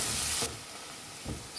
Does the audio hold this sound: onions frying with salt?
yes